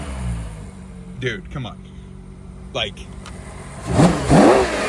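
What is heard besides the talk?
Ferrari Purosangue exhaust revving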